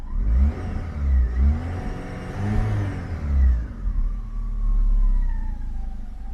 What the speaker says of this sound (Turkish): Şimdi hafif bir gaza basayım.